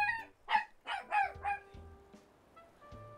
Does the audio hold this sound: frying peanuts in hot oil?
no